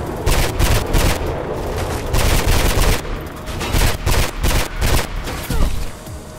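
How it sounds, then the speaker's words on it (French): Dense gunfire in the video game Mirror's Edge, with rapid volleys of shots rattling almost nonstop, loud and close, pausing only briefly between bursts. "Qui me tire dessus là?"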